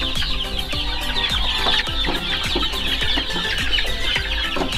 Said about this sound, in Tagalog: Lahat ng manok nila, Sir B-Boy, nilalagyan nila ng personal wing